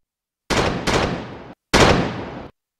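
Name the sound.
sound effect of 20 cannons firing in unison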